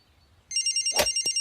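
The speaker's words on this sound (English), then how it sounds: "A cell phone!" A cell phone rings with a bright electronic ringtone, steady repeating pulses starting abruptly and continuing, loud and close, with a brief thud partway through and no talking.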